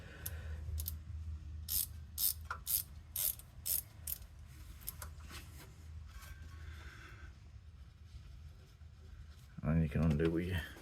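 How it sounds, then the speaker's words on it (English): A ratchet spanner clicks in quick bursts while undoing bolts on a Land Rover 110 Defender, the sharp ratcheting repeated close up, with a brief clunk of handling near the end. "So you can use a ratchet spanner on them, you can get it in."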